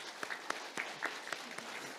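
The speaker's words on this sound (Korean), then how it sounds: "우리 감사의 박수 한번 부탁드리겠습니다" A church congregation claps in thanks during a Sunday service, a quiet, distant ripple of applause with a few sharper individual claps standing out at an uneven rhythm.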